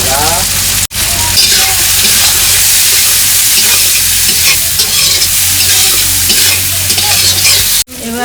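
Garlic and potato pieces fry and stir loudly in hot oil for a Bengali gurjali fish curry, with a steady dense sizzle and scraping broken by two brief gaps.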